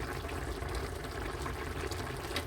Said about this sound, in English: If the food is bubbling like this, reduce it to a lower heat setting